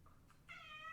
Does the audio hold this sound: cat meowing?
yes